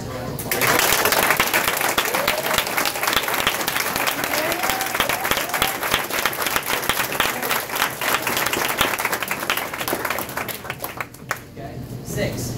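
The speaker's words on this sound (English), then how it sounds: "Give these guys a round of applause." A room full of people gives a round of applause for a small group at a training session: dense, loud, continuous clapping with cheering voices mixed in, fading slightly toward the end.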